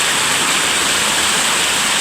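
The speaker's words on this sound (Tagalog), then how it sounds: "Sa bato lumulusot yung tubig." Water of Uwan-uwanan Falls rushes through rocks, a loud, close, unbroken roar of churning flow filling the whole moment.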